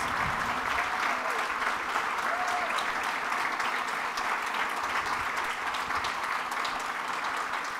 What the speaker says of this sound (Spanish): pedimos un fuerte aplauso para nuestra empresaria del año 2024, Nixa Naegui de Ríos.